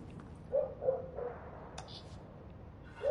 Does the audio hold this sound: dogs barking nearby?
yes